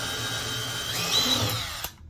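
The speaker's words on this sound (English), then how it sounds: "And then you're going to pre-drill one hole" A power drill whirs steadily while pre-drilling a hole into a floor joist for a joist repair kit, rising in pitch for about two seconds before cutting off abruptly.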